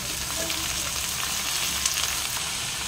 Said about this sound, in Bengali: বাঁধাকপিগুলোকে এবারে ভালো করে ভেজে নিই।